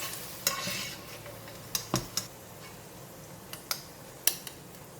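Shiitake mushrooms stir-fried in a pan, with a soft steady sizzle under scattered scrapes and clinks of a utensil against the pan, close and moderately quiet.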